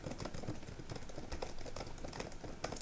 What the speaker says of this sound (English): So this is what it sounds like if you was typing and using this microphone.